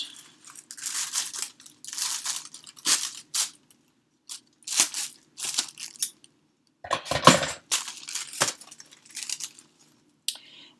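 Press and seal plastic wrap is crinkled and cut with scissors for a Halloween shaker card: repeated close bursts of crackling and rustling film, with sharp snips and pauses between handlings, and no talking.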